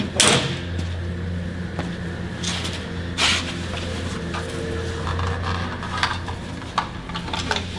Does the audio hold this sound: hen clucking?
no